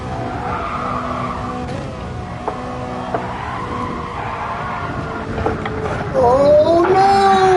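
A Ferrari in the Gran Turismo Sport racing game roars and skids, its engine droning steadily before a loud, rising tire squeal takes over near the end.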